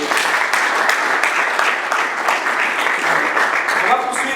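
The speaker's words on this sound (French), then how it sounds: "on applaudit pour la maison" Audience at a cultural forum in Lubumbashi applauding steadily throughout, a dense, even wash of clapping with faint voices mixed in.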